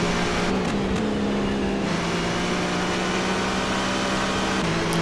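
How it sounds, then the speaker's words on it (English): Steady droning engine of a Ginetta G60-LT-P1 LMP1 race car in rFactor 2, a constant loud hum held at near-even pitch with small shifts, no talk over it. "Not a particularly enthralling sounding car though"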